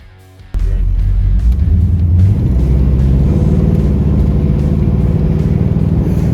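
A 1964 Pontiac GTO convertible starts off after a brief quiet moment, its engine breaking into a loud, steady, deep rumble that holds close and strong as the car drives on.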